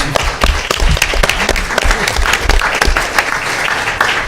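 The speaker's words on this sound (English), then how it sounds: "I think that deserves an applause" Applause at an Orlando city council meeting, close and loud steady clapping from the audience with sharp individual claps standing out, continuing without talk.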